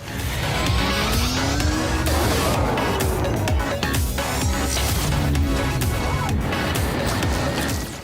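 Karts racing in the Dash Dash World VR game on a Mario Kart-style track, loud continuous engine whine with sliding pitch sweeps, skids and scattered impacts layered over a busy game mix.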